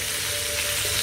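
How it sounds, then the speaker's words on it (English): Chicken pieces sizzle steadily in a hot pan. The frying hiss stays close and even throughout, with no voices. "You see our chicken is nicely sizzling away, and I haven't touched it at all."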